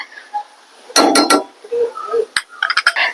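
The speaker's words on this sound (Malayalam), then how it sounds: "രണ്ടാം പാൽ ഇതാ നമ്മൾ നന്നായിട്ട് ഇളക്കി കൊടുക്കും" A spoon stirs a thin second extract of coconut milk in a cooking pot with potato and carrot, scraping and clinking in a quick burst of metallic taps, then scattered lighter knocks.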